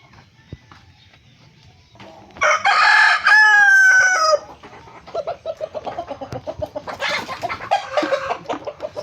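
A Talisay Grey Hatch rooster, a dark-legged gamefowl on a backyard farm, crows once loudly and up close, a long strained call, with clucking and other fowl noises before and after.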